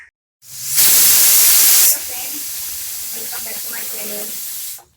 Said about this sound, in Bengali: প্রেশারে এই রাতে একটু তড়কা করবো, তড়কাটা দিয়ে দিয়ে একটু সিটি দিয়ে রাখছি সেদ্ধ করে